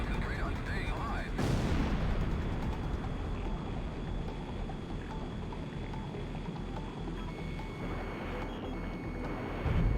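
Enemy fire and bombs rumble in the Ace Combat X video game. A sharp blast lands early, and after it a dense, roaring wash of distant explosions and gunfire rolls on steadily under engine noise for the rest of the clip.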